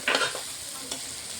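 Ginger and garlic hit hot oil in a pan with a brief loud sizzle and stirring near the start, then a quieter steady frying hiss with a second small burst of sizzle.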